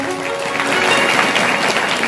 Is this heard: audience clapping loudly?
yes